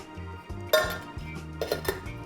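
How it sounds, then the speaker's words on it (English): A lid is pressed onto the filter of a cold brew coffee kit, producing a few light clinks and clicks from nearby, quiet and with no talking. "Pop the lid on filter"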